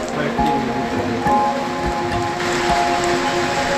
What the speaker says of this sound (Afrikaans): Het is 'n lekker reënerige dag.